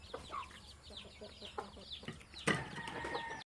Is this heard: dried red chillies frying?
no